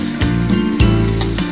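Soaked moong dal goes into a hot pan and sizzles in short bursts, close and loud, over a steady tonal hum.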